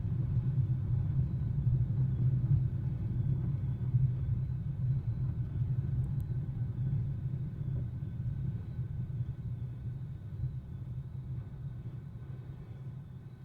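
The skid of a Pirat glider rumbles along the ground during a landing in Microsoft Flight Simulator, a steady low continuous roar that eases off slowly, with no talk.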